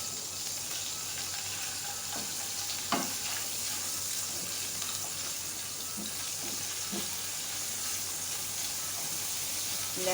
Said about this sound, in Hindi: लहसुन अदरक का पेस्ट उसमें सौते हो जाए